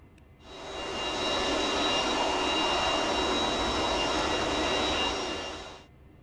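A Saab Viggen jet engine spools up in the DCS World flight simulator, swelling into a loud, steady broadband roar with a thin whine on top, holding for several seconds before it cuts off abruptly.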